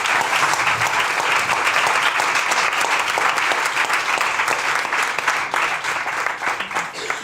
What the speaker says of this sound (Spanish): Aplauso para todos y en especial para Alberto